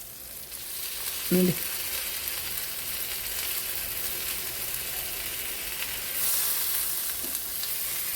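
Kallur fish frying in hot oil over a high flame, a steady soft sizzle and crackle running throughout, with a brief louder clatter near the start and a single short spoken word.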